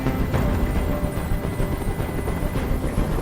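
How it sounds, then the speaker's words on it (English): A helicopter in the video game Detroit: Become Human thrums steadily overhead, a constant low rotor drone filling the scene for a few seconds with no talk. "Tell that helicopter to get out of here."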